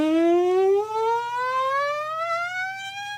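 A siren warm-up exercise: one loud, clear sustained note slides smoothly upward from low to high with no other sounds.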